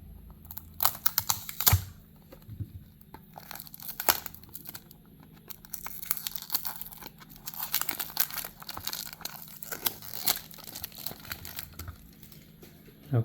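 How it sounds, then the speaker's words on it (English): Close-up crinkling and tearing of the packaging as a Tomica Aston Martin DBX toy car is unboxed, with soft rustles, sharp rips and small clicks scattered unevenly in a quiet room, with no talking. "So let's unbox and see how it looks"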